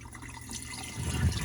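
Water is poured and strained off rinsed rice, a soft trickling and splashing that swells louder toward the end, close by with no speech.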